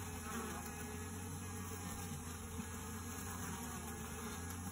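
Honey bees buzzing inside a beehive infested with hive beetles, a dense, continuous, fairly quiet hum of many wings with no talking.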